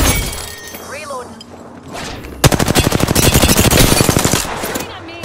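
Rapid automatic gunfire in the video game Apex Legends bursts in loud and dense about halfway through, a fast, steady string of shots after quieter game sounds.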